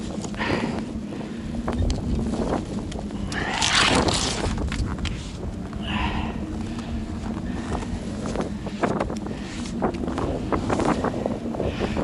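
Strong blizzard wind in minus-thirty cold in the far north, a steady broadband roar with gusts that swell and ease, heard close and loud throughout with no talking.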